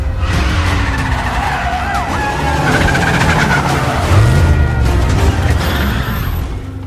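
Car tires skid and squeal during a film chase through the streets of Rome, over loud continuous engine roar and dense action-scene noise, with a heavy low thump midway.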